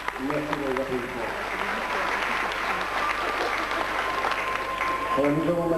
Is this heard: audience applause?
yes